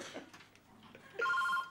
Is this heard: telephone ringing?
yes